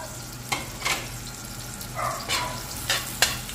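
Food frying in a pan until light brown, a soft continuous sizzle with sharp clinks and scrapes of a utensil against the pan at irregular intervals, close by.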